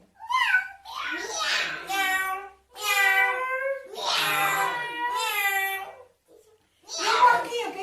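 A young child imitates a cat with a series of drawn-out, wavering meows, several in a row with short pauses, loud and close.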